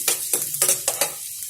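Chopped green chillies fry in a pan, with a few quick sizzling bursts and stirring scrapes in an uneven rhythm, close and fairly clear with no talk.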